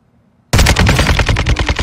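Rapid gunfire in the Warzone 2.0 battle royale, loud and close, bursts in after a moment of near silence and keeps going as a dense, rattling volley of shots.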